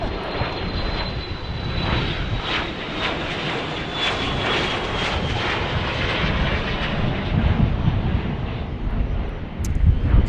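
A Cessna 700 Latitude business jet at Dallas Love Field, heard as a loud, sustained engine roar with wind noise, steady throughout and slightly rising near the end.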